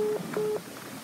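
A telephone dials out to a phone scammer's number, with a few clear DTMF keypad tones in quick succession that then fade into a quiet line.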